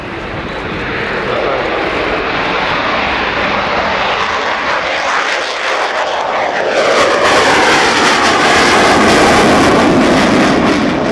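A Sukhoi Su-27 Flanker jet fighter flying at an airshow, a loud continuous engine roar that swells and shifts in pitch as the aircraft passes, with a faint voice underneath.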